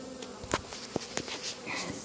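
Honeybees buzzing in a hive at a steady low hum, with brief louder passes as individual bees fly close, no talking.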